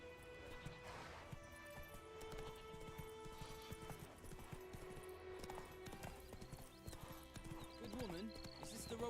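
Horse hooves clip-clop steadily in The Witcher 3, joined by a whinny near the end, with game music and ambience beneath and a voice briefly speaking over the ride.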